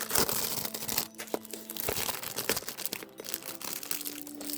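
Plastic packaging crinkles and tears while a plastic storage box for rhinestones and jewelry is unboxed close up, in irregular bursts of crackling with short quiet gaps.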